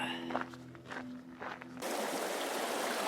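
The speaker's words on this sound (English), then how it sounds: "Well, here's the mighty Rincon Creek" Rincon Creek on the Arizona Trail: a couple of seconds of footsteps on the bank, then a loud, steady rush of flowing stream water that fills the rest of the clip close by.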